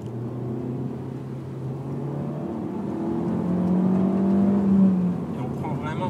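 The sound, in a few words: Alfa Romeo MiTo QV 1.4 MultiAir engine revving, accelerating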